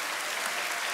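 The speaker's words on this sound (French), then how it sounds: "Mes amis, est-ce qu'on peut applaudir mon pharaon préféré?" Audience applause for a Krav Maga performer at a club event, a dense steady wash of clapping filling the whole short moment at even strength.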